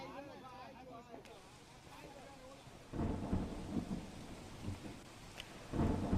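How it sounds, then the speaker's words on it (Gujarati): Heavy monsoon rain pours over flooded Porbandar, Gujarat, as 17 inches fall in 20 hours; a voice speaks briefly over the steady downpour before two loud, broad thunder rumbles crash nearby. "પોરબંદરમાં છેલ્લા 20 કલાકમાં 17 ઇંચ વરસાદ થયો।"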